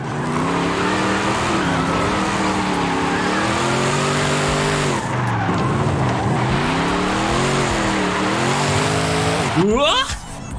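Tires squeal and skid through a long drift in Forza Horizon 5, the engine droning at low revs and wavering in pitch, loud and continuous under a voice.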